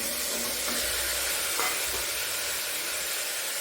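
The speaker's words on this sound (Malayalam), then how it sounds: "ഇത് നല്ലപോലെ ഒന്ന് വഴറ്റട്ടെ." Carrot, potato, green peas and green chilli sauté in a pan with curry leaves, giving a constant close sizzle with faint stirring scrapes and no talking.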